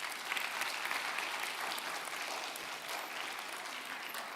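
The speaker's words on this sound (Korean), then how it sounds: "저 위에 있는 대학원 오누님들, 우리 아우님들에게 큰 박수 한번 보내주십시오." Sustained audience applause fills a university chapel service, dense steady clapping from a large crowd of students and graduate students, loud and continuous with no speech over it.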